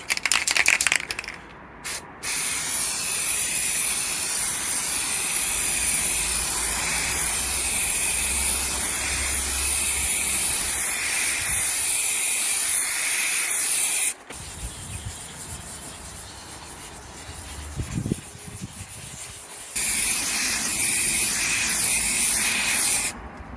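An old can of Halford's enamel spray paint hisses in long, steady, loud bursts outdoors, with short pauses between passes and some wind noise.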